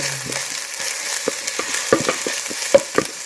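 Ginger paste sautéing with golden onions in a pan for a spicy traditional mutton curry, a soft continuous sizzle broken by a few sharp spoon scrapes and taps, close with no talking.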